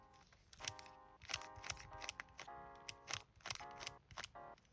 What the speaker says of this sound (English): whenever you make a turn, you can hear the magnets clicking